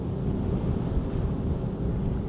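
Strong wind buffets the microphone aboard a ferry crossing from Sydney Harbour to Manly, a steady loud low roar with gusty rumble filling the whole clip and no other sounds breaking through.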